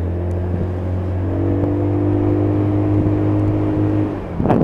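A WK SX 125 motorcycle engine revs close by with a steady, droning buzz that climbs slightly in pitch and holds, then ends in a brief louder burst. No one speaks.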